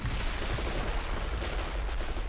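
Sustained gunfire rattles through a battle in the World in Conflict video game, a steady, dense wash of rapid shots over a couple of seconds, fairly loud and without voices.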